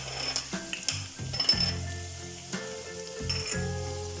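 Chopped garlic and ginger fry in hot oil for chilli chicken, giving a close, steady sizzle broken by clinks and scrapes of a utensil against the pan.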